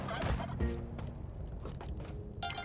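Turkeys gobble in the platformer Spelunky 2, a couple of quick, close gobbling bursts over game sounds.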